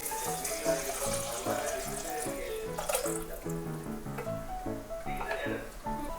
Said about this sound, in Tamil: இப்போ ரைஸுக்கு தேவையான தண்ணி ஊற்றிடலாம்